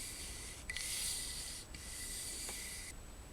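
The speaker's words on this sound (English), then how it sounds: "that frees up the dolly so you can slide it along the track easily" A Kamerar SD-1 camera slider dolly glides along its track in a steady, close rubbing hiss that holds for a few seconds, with brief breaks as it changes direction.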